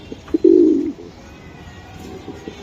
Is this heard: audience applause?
no